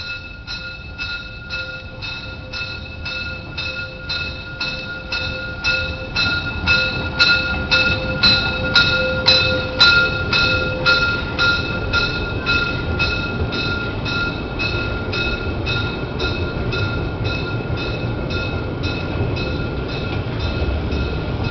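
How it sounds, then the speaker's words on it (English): A Mollibahn train runs steadily, its wheels clicking over rail joints in an even rhythm while a loud rumble swells and holds, with a few sharp metallic ticks partway through. "Big trains"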